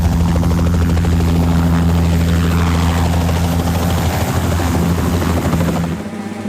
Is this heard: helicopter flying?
yes